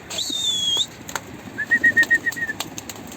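Pigeon wings flap in a quick rhythmic flurry close by, with a faint whistling tone running through part of the clip.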